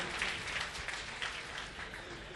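Audience applause at an Urdu mushaira poetry gathering in Nagpur, a dense, steady patter of many hands clapping that swells slightly and holds for a couple of seconds, moderately loud and without speech.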